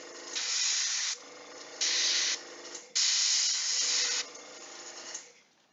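Airbrush spraying gray paint onto a miniature figure, a steady close hiss in three long bursts separated by short pauses and a quieter compressor hum, with no talking.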